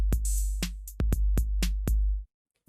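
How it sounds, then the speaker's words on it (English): A BandLab drum machine preset beat of sharp, evenly spaced hits with booming low thumps, playing a short pattern for about two seconds before cutting off. "And then moving on to the drum machine"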